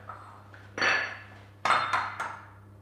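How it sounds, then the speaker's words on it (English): Three eggs cracked one after another into a bowl of plain flour, each a brief, close tap on the rim followed by a soft crunch, in a quiet kitchen. "Now I want you to crack your 3 eggs into the middle."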